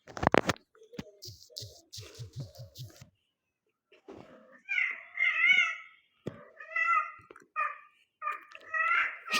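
Several cats meow loudly and repeatedly, some drawn-out and whiny, with a few short gaps of silence between the calls.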